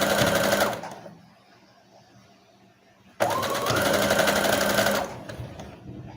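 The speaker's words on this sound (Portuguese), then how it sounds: "e apenas costura ponto reto." A sewing machine runs a straight stitch while making a doll, whirring steadily for about a second, pausing, then starting again in a loud, even, close-up run of several seconds.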